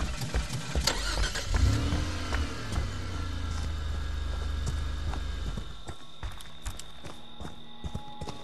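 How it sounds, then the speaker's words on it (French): A car engine runs as a continuous low rumble for several seconds, with clattering, knocking noises on top, then cuts off, leaving scattered thumps and knocks. "Arrête ta maudite bagnole!"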